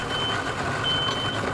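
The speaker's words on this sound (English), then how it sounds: "I think that's that truck over there beeping, that white truck backing up to the boat over there." A white truck backing up to a boat at a launch during a heavy rainstorm emits thin, steady reversing beeps, faint and distant over a constant wash of rain and engine rumble.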